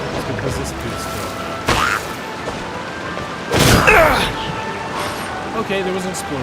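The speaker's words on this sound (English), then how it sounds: "Okay, there was an explosion." Explosions in the video game Genshin Impact, two loud bursts a couple of seconds apart with rumbling tails, over busy game sounds and music.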